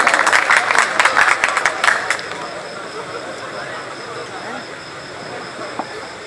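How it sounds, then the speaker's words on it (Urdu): An audience at an Urdu and Saraiki poetry mushaira in Layyah claps in a brisk burst for about two seconds, then the applause fades into quiet room noise. "تاریاں بھرپور تالیاں جاگن دا ثبوت دیو"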